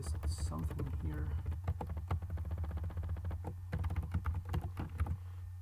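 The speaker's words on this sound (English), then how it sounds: "let me just type something here" Rapid clicking keystrokes on a computer keyboard, typed in quick irregular bursts close to the microphone while someone talks over them.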